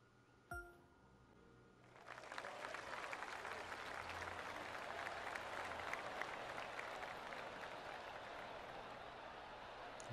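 Crowd applause at a golf course tee in the video game PGA Tour 2K23, a brief chime followed by sustained clapping that swells in and holds steady, fairly distant and alone.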